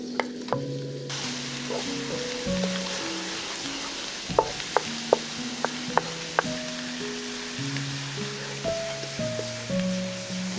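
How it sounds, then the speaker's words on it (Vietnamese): Steady sizzling of garlic frying in hot oil, a continuous crackle with occasional sharp pops and a few clinks of a utensil, no talking. "Mình cho dầu ăn vào chảo rồi cho tỏi vào phi."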